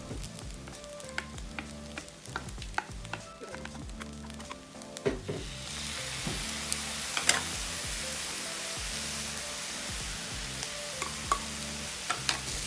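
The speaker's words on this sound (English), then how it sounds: "Break up your rice and add in all of the seasoning ingredients." Rice stir-frying with Chinese sausage and seasoning, starting as a soft sizzle with regular spatula scrapes and taps, then swelling into a louder, steady hiss as the stirring continues.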